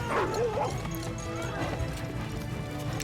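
A dog barks in a Game of Thrones scene, a few sharp yips mixed with horse hooves clopping and a whinny, all set in a busy scene soundtrack.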